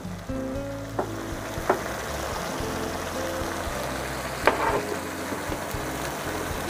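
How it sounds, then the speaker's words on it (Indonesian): Sweet soy sauce, oyster sauce and sugar stirred in a pan for orek tempeh: a soft, continuous sizzle with occasional sharp spatula taps and scrapes. "Diaduk-aduk sampai tercampur rata ya."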